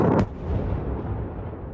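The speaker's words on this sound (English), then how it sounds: "it was yet more Russian missiles and drones. Several blasts across the capital, Kyiv, damaged buildings" Russian missile and drone strikes on Kyiv on New Year's Eve: a loud, sharp blast opens, then a long rumbling boom rolls out and slowly fades.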